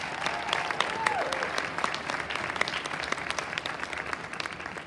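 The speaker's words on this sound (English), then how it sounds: "So let's give all of our contestants a round of applause." Audience applause for contestants at a live competition event, a steady, sustained patter of many hands clapping throughout, with a brief tonal whistle early on.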